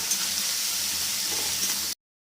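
Chili powder, Kashmiri chili powder and turmeric sizzle and fry steadily in a hot pan while being cooked down for khichdi, a close, continuous hiss that cuts off abruptly.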